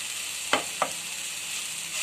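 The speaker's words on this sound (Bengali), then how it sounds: "লবণ দিয়ে আমি আবারও ভালো করে মিশিয়ে নিচ্ছি" Dried jute leaves fry with salt in a constant, even sizzle, broken by two quick stirring scrapes close together early on; no voices.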